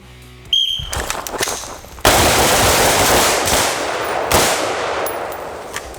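Three sharp, loud gunshots ring out at a shooting drill aimed at a target's head box, spaced irregularly over several seconds, each followed by a lingering echo.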